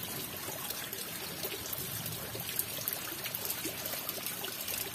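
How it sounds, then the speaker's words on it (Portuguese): Rainwater trickling and dribbling at a doorway during heavy rain in the Pernambuco backcountry, a steady close wash of running water that continues without pause for the whole stretch. "Olha o barulhinho da água."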